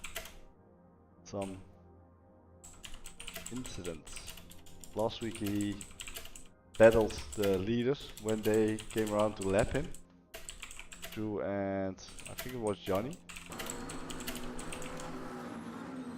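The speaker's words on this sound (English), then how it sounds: "Sorry for the typing noise." Computer keyboard typing clatters steadily in the background beneath talk from motorsport commentators covering a GT3 endurance race, the keystrokes faint and mostly masked by their voices.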